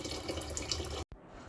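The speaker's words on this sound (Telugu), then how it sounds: "వాటర్ పోస్తున్నా." Water pours from a tap in a kitchen while soaked red lentils, chana dal and moong dal are being cooked, a steady close rush that cuts off abruptly, leaving a faint hiss.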